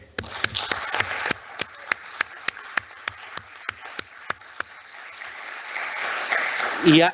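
An audience applauds award winners at a conference opening, starting with a series of sharp, evenly spaced claps that swell into fuller group applause, with a voice rising briefly at the close.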